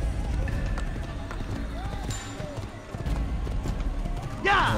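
Galloping horse hooves drum steadily in Assassin's Creed, with a brief neigh near the end; someone talks over the hoofbeats.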